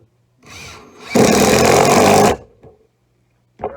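Hart 20-volt cordless impact driver sinking a sheet metal roofing screw with a rubber washer into a 4x4 post: a loud, steady hammering whir of about a second, with brief handling sounds before and after.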